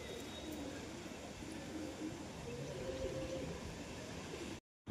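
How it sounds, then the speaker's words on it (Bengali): A pair of pigeons being offered at a pigeon sale, with low cooing mixed into steady background murmur and noise that runs throughout, ending in a brief silence. "এ হচ্ছে এক জোড়া কবুতর, অসাধারণ কবুতর।"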